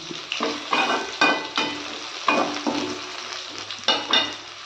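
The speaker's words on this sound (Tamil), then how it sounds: "வெங்காயம் பார்த்திங்கன்னா நல்லா வதங்கிடுச்சுங்க" Onions sautéing in a pan for onion kulambu, a loud continuous sizzle broken by repeated scraping stirs of a spatula, close up and without speech.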